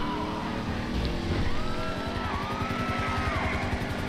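A 1980 Pontiac's engine roars steadily in the game GTA 5, a loud, continuous, close rumble that rises and falls in pitch as it revs, with a faint tire squeal partway through and nobody talking.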